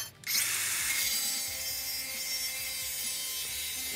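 A cutoff wheel slicing through metal stock while building a deer feeder stand gives a loud, steady high-pitched grinding hiss that starts abruptly and holds without pause.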